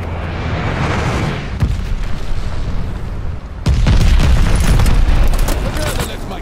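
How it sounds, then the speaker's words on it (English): A glide bomber bombing run in the shooter game Call of Duty Vanguard sets off heavy booming explosions, with a sharp loud blast midway followed by a dense rumbling barrage of impacts. "Allied glide bomber on the way."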